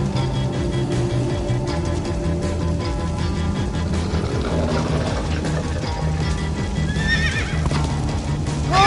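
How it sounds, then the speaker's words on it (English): A horse neighs and whinnies over steady galloping hoofbeats in Minecraft: Story Mode, with a continuous music bed underneath throughout. "Slow down, horse!"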